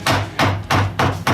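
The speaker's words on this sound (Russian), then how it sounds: "для разборки резиновый молоточек" Rubber mallet knocking on a part while a Polaris quad bike is stripped down to repair a low gear that won't engage, with four loud, evenly spaced blows close up, each ringing briefly.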